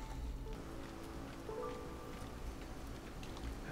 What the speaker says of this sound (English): There's a slight downpour.